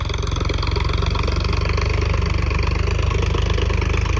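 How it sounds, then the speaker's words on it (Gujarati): A tractor loaded with manure, stuck in a farm field, runs steadily at a low, rumbling idle, loud and close, with a constant throbbing rhythm and no voices. "તો અમારું આ ટ્રેક્ટર ખૂંચાઈ ગયું, તો હવે એને કાઢીશું."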